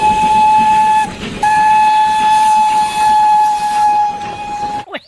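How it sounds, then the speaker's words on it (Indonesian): Toy Thomas the Tank Engine train sounds a loud, steady whistle-like tone with a steam-train chug effect, running almost continuously with a brief break, then cutting out near the end. "yang ini kereta api Thomas"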